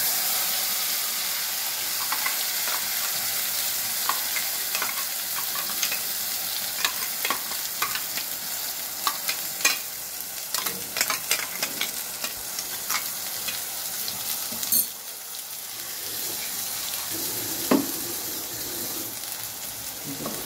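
A paste of cashew, onion, garlic and ginger fries in a pan, giving a steady close sizzle with bursts of stirring and scraping throughout, briefly dipping in level before the frying hiss returns.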